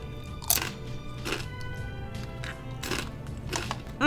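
Everything-flavor pretzel crisps crunched while eating, a few sharp brittle cracks and crunches spaced irregularly over quiet background, close and moderately loud.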